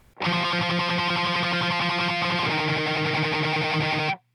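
Distorted electric guitar with rapid tremolo picking on single notes from a song, a dense, continuous buzzing roll that stops abruptly after about four seconds.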